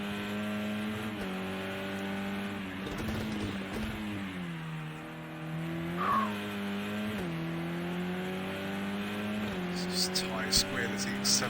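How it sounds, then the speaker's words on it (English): A GT4 or touring race car at Laguna Seca accelerates through gear changes with a droning engine note, tyres squealing briefly midway. A commentator talks over it. "Tyre squeal as he accelerates."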